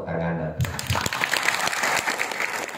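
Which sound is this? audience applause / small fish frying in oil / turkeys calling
audience applause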